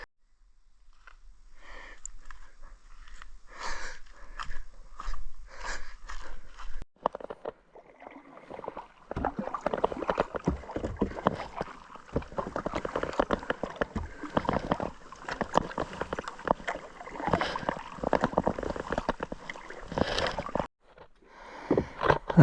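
A folding kayak is paddled on a lake ringed by Douglas fir and pine forest, with rhythmic splashes and water gurgling close by, quiet knocks early on, then steadier paddle strokes and dripping.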